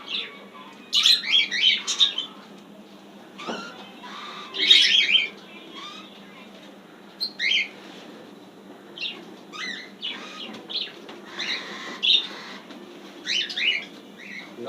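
Wild birds chirp and tweet in short bright bursts just outside an open window in winter, several calls overlapping irregularly at moderate distance against a quiet background.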